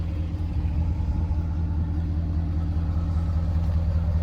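A Ford F450 Jerr-Dan self-loader wrecker truck, 4x4, idles steadily, a deep continuous engine rumble heard close with no other sounds.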